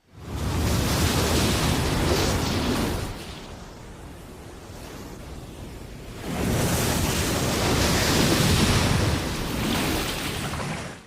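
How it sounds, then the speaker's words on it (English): Heavy ocean surf layered with a lion roar crashes in two big surges with a quieter lull between, a deep roaring rumble swelling beneath the waves. "The sound of a lion roar has been added to give the waves massive power."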